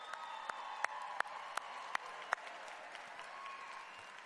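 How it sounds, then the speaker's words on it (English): A law school commencement audience applauds in a large hall, giving a soft, distant, steady wash of clapping with a few louder individual claps standing out near the start. "Applause is appropriate, yeah."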